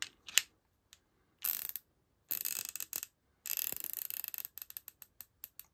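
Wera Zyklop Pocket ratchet turned with a half-inch socket fitted gives crisp, rapid pawl clicking in several short bursts, close and clear with brief pauses between runs and no talking.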